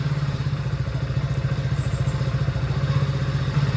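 Motorcycle engine running with an odd, uneven note, a steady low pulsing throb with rhythmic clattering knocks, close and continuous without speech.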